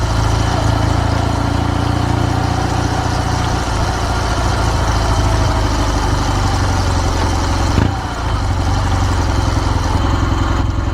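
A Kawasaki W650 motorcycle with a Wyvern Classic aftermarket muffler idles close by, a steady loud low exhaust burble that runs unbroken, with one brief dip near the end.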